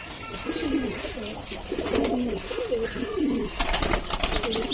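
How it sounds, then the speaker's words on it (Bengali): Madras pigeons coo in a loft, their soft rolling calls overlapping in close, repeated phrases over a low room hum. "এটা হচ্ছে মেল পায়রা সেট আপ।"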